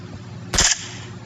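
A single sharp gunshot cracks out in the video game PUBG Mobile, one loud brief report standing clearly above a low, steady background hum.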